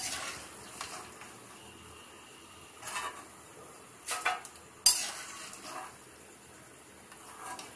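Namakpare fry in oil in a kadai over low heat, giving a soft, faint sizzle with a few louder scraping and clinking bursts from a utensil.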